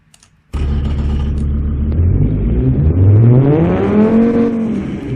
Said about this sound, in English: let's see if I try to run the engine from now